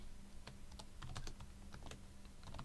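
Rapid, irregular clicks of typing on a computer keyboard, close and fairly quiet, over a low steady hum.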